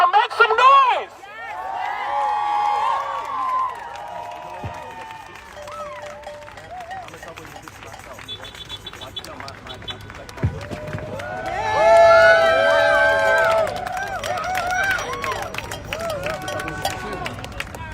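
A rally crowd cheers, whoops and claps, with scattered shouts and voices over a steady babble, the noise swelling louder twice, including a strong surge near the end.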